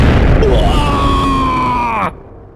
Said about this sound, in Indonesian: Kombinasi ledakan api dan sambaran petir menghantam tepat di dada iblis tersebut.